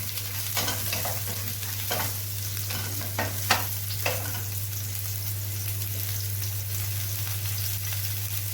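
Hot chili peppers sizzle in oil in a large frying pan and are stirred a couple of times while making a spicy zucchini dish. The frying hiss is steady, with a few sharp scraping stir strokes and a low background hum.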